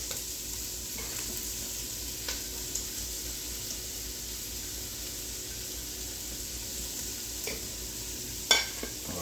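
Onions frying in unsalted butter in a pan, a soft steady sizzle with faint crackles and a few light clicks of stirring, quiet and continuous with no talking.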